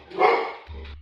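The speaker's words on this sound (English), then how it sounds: "Wait, what are you fucking barking at?" A dog barks in a short burst, loud and close, with a lower rumbling tone trailing after it indoors.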